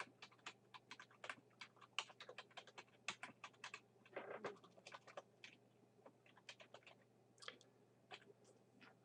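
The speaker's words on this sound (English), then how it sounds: "Okay, so just type in the comment." Soft, quiet clicks on a computer keyboard as a comment is typed into an Excel spreadsheet, tapping in an uneven rhythm with brief pauses over a faint steady hum, with no one speaking.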